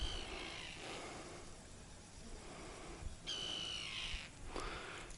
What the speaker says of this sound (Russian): Чайки ругаются, не дают рыбачить.